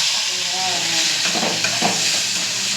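Chicken pieces frying in a pan for a chicken roll, a steady close sizzle with some stirring scrapes, no voices over it.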